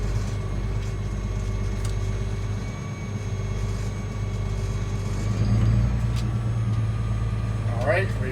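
Massey Ferguson 8650 tractor driving across a field, a steady low engine drone with continuous rumble throughout, fairly loud and unchanging, with a brief rise in engine note near the end.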